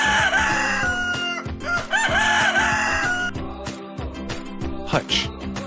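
Chickens cluck and a rooster crows over a cheerful repeating tune, with the calls rising and falling in short bursts.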